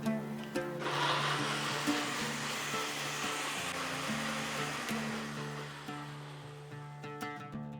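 A mixer grinder whirs through soaked fennel seeds and tomato with a splash of water, a steady, fairly close droning roar that shifts pitch slightly as the paste smooths out and then gradually eases off.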